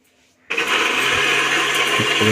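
An electric mixer grinder switches on after a brief quiet moment and runs loud and steady, whirring as it grinds bitter gourd into juice, close by and continuous to the end.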